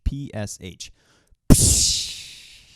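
After a few short spoken words, a voice imitates a crash cymbal with one loud, breathy 'psh' that hits hard and then fades over about a second.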